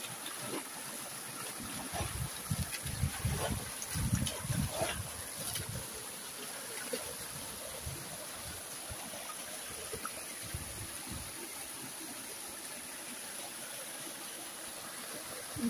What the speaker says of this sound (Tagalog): sarap pakinggan yung ano, lagaslas ng tubig